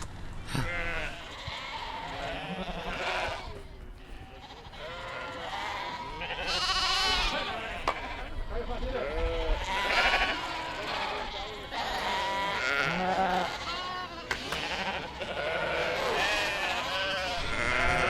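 Sheep bleat repeatedly on open pasture in the Faroe Islands, a flock calling in overlapping, wavering cries that come close and loud, with faint voices now and then in the background.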